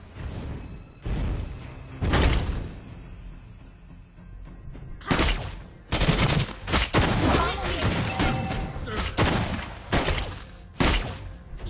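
Gunshots from the hero Clint in Mobile Legends, a sharp burst of loud shots in separate clusters with short gaps, along with game voice lines.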